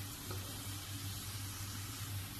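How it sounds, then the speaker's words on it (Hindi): Chopped onions sautéing in a pan for an eggplant and potato sabzi, giving a steady, quiet sizzle with a low hum beneath, continuous and unbroken throughout. "इसको बस आपने प्याज को सौते करना है, जस्ट सौते करना है आपने इसे 2 मिनट्स"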